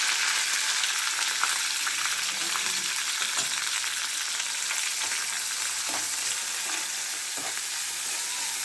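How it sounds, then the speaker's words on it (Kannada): Onions fry in a pan of oil for a home-cooked chickpea stir-fry, giving a steady hissing sizzle throughout with occasional soft stirring clicks. "ಈರುಳ್ಳಿ ಹಾಕ್ಕೊತಾ ಇದ್ದಾರೆ"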